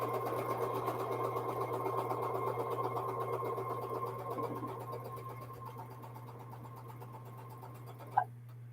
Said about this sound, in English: So get that lined up, and then I can sew those together.